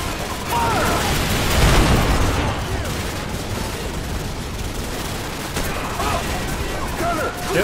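Dense, loud gunfire and booming blasts roll together in a continuous battle din from the Call of Duty 4: Modern Warfare video game, with voices present in the mix.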